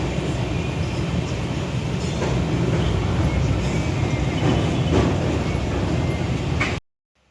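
A passenger train rolls along on an Odisha-bound journey, a loud, continuous rumble and clatter of wheels on rails with faint rhythmic thumps, cutting off abruptly near the end.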